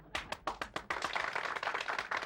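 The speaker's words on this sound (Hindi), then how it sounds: "तालियां।" An audience at an honoring ceremony for a famous writer claps, starting with a few distinct, spaced claps before the sound thickens into a fuller, quieter round of applause.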